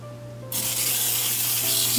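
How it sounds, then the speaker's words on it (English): A sudden steady hiss of cooking oil spray into a non-stick pan starts partway through and continues, close and loud, over a low electrical hum. "I am going to spray some oil"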